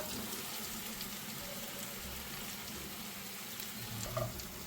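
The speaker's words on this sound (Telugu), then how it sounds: "ఇప్పుడు మనం వేయించుకున్న కాలీఫ్లవర్ బంగాళదుంప వేసేద్దాం." Fried cauliflower and potato pieces going into a pan of masala for cauliflower curry, giving a steady low sizzle and frying hiss with a faint clatter near the end, no talking.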